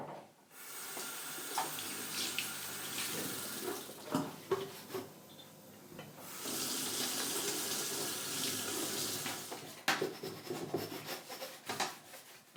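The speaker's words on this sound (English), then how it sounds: "I'm just going to use water, and I'm not going to use that much because I want to save the stickers in the back here." Water runs and splashes over the plastic case of a Commodore 64 being washed at a sink, a steady tap flow with rubbing and brief pauses, close and alone without talk.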